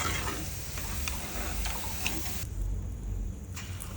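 Onion bonda batter frying in medium-hot oil makes a continuous close sizzle with scattered crackles and pops, steady at moderate loudness with no voices.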